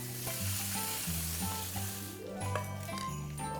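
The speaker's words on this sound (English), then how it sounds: "I'm gonna saute the bacon." Bacon sizzles in olive oil in a pan, a close, steady frying crackle with occasional stirring scrapes and a faint background tone, no voices.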